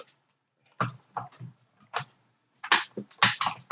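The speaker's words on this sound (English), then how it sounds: "Makes a little bit of a clicking noise or something as the thin metal dies go through" Irregular clicking and light cracking sounds as thin metal dies pass through a cranked die-cutting machine, sporadic at first then busier, close and fairly quiet.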